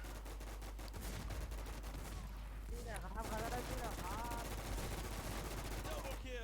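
Rapid automatic gunfire from the online zombie shooter game WarZ, dense continuous bursts filling the whole stretch, with someone talking excitedly over the shots.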